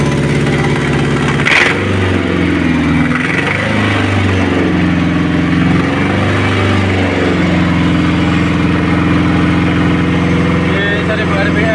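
An EFI car engine idles steadily at 1000 rpm, a constant loud hum that is close by and holds for the whole stretch, with a brief tick at the start and no voices.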